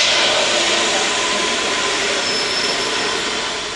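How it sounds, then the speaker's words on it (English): Vacuum pump drawing air out of a foam-covered latex weather balloon prop into four cylinders, a loud steady roaring whoosh that holds constant and eases slightly at the end. "A vacuum pump draws the air out of the balloon and into 4 cylinders"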